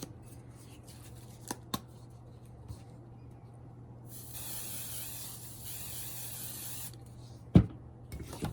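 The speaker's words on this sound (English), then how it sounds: "you want to use a little firm hairspray to hold your" Firm hairspray is sprayed onto the mustache of a handmade no-sew fabric Christmas gnome: a single hiss of about three seconds, fairly close, in an otherwise quiet room with a few faint knocks.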